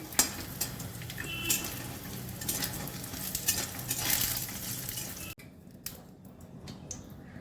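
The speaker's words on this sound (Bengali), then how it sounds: "সর্ষের তেলে হবে। বড়িগুলো প্রথমে ভেজে নিচ্ছি।" Bori lentil dumplings frying in mustard oil crackle and sizzle close up with spatula scrapes, then the sizzle drops abruptly to a quieter, sparser spatter for the final seconds.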